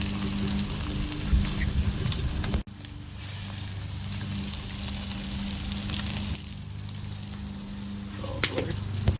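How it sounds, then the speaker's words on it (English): A wood fire roars and crackles steadily under a crab boil pot outdoors, a continuous close hiss and sizzle with scattered sharp pops. "Really good fire going here."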